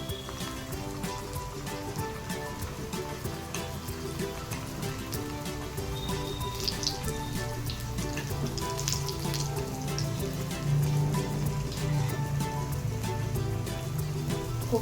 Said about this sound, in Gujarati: હવે ફ્રેન્ડ્સ તમે જોઈ શકો છો આ રીતે આપણે કોફતાને ડીપ ફ્રાય કરીશું